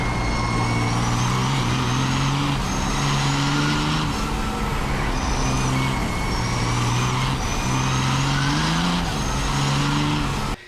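A Cummins diesel engine fitted in a 1971 Dodge Charger runs steadily throughout, its loud, continuous drone rising and falling in pitch with shifting revs and no voices present.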